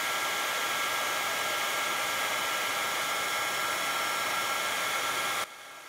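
Hot air embossing heat tool blowing steadily as it melts embossing powder on a stamped lilac oak tree design, a loud continuous whoosh that cuts off abruptly near the end.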